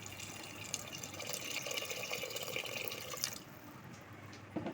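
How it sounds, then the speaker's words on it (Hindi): Water poured into beef in a cooking pot for a beef handi, a soft continuous splashing and trickling that cuts off near the end, close and fairly quiet with no talking. "गोश्त में पानी ऐड करते हैं"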